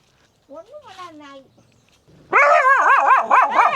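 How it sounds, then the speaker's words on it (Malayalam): A dog in a Palani village barking and whimpering close by, a rising whine first, then a run of loud, rapid repeated barks with a yipping edge. "എവിടെ നിന്നും പട്ടി ഇറങ്ങി വരുന്നുണ്ട്"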